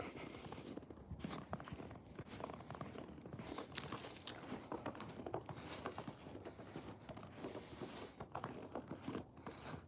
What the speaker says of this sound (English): You can hear the crunching of the snow.